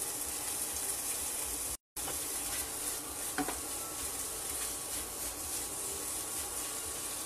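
Tomato purée goes into a hot pan for tuna Vizcaína and is stirred, giving a steady, close sizzle and frying hiss with a brief gap and scraping stirs.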